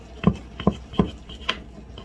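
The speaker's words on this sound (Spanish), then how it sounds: "Voy a picar unos limones y una cebolla" A knife chopping limes and onion on a cutting board while making chicken tacos, four distinct close, crisp knocks at an even, unhurried pace with no talk.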